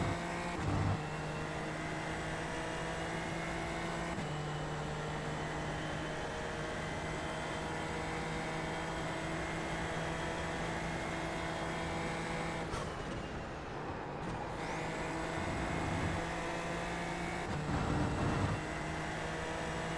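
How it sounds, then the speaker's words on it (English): Race car engine in the iRacing sim game, droning steadily with sustained harmonic tones that drop out briefly twice as if shifting or lifting, then resume near and loud throughout. "Car sounds a bit like a Hoover."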